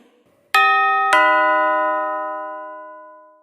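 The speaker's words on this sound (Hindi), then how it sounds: "उसी वक्त किसी ने डोरबेल बजाई।" A two-tone ding-dong doorbell rings once, clear and close, the second chime fading slowly into silence.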